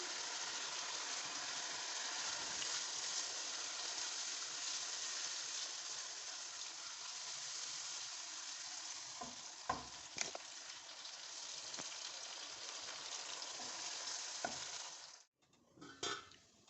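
Steady sizzling of spices and yogurt frying in a pot for biryani, with occasional stirring scrapes and clinks near the end; no talking.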